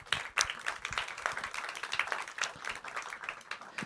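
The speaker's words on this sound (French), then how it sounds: "Vous pouvez les applaudir." An audience applauds the three speakers at the close of a panel discussion on agricultural and food resilience, steady dense clapping filling the hall, fairly faint and distant, with no voices over it.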